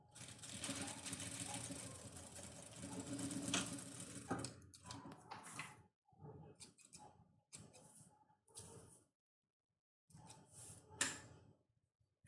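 A sewing machine stitches a lining to the main fabric, running steadily for several seconds and then in short stop-start bursts, fairly quiet and close, with a brief voice in between.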